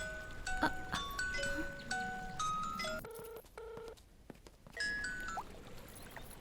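Telephone keypad tones sound as a number is dialed in a Hindi-dubbed South Indian action movie, a quick run of clear beeps followed by a repeating ringback tone, then a few more tones, with no talking.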